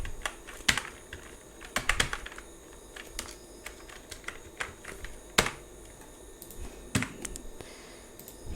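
Keystrokes on a computer keyboard while entering a village name in English, irregular clusters of sharp close clicks with short pauses and no talking.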